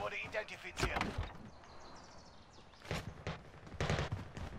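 Gunfire in Call of Duty: Warzone, a few sharp shots spaced apart, moderately loud, under ongoing in-game sound and someone talking in German.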